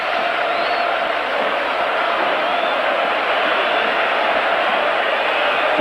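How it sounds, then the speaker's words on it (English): Home football crowd roaring in a packed stadium at a European Cup quarter-final, Barcelona against Juventus in 1986, a dense, steady wall of cheering noise held loud and unbroken throughout. "the home crowd's appreciation of their team has been totally changed by the fact that they've scored"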